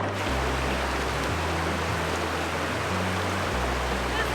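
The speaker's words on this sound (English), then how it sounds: "That's the creek, and it's warm all the way out there to where I was walking." Steady broadband rush of a creek flowing downstream near warm hot springs in deep snow country, a continuous close wash of water with a low engine-like hum underneath and no voices.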